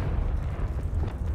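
A Confringo blasting spell explodes in the Hogwarts Legacy video game as a sustained, loud low rumbling boom that rolls on through the moment without any voices.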